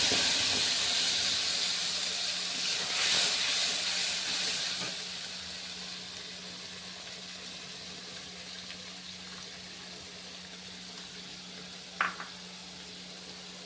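Ground spice paste hits hot oil already tempered with bay leaf and whole cumin, giving a loud sizzling hiss that flares, then settles into a quieter steady fry, with a brief clink near the end.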